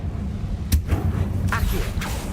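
A Confringo fire spell cast in Hogwarts Legacy, a few sharp cracking impacts spaced apart over a rumbling low bed, moderately loud, with some voice in the mix.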